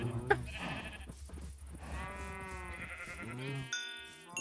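Bleating sheep in the Minecraft video game, several stacked bleats over a couple of seconds mixed with game chimes and background music, fairly close and clear with no talking.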